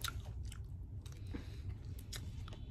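Fresh fruit is bitten and chewed close up, with faint, soft crunches and moist squishing over a quiet background. No voices are heard.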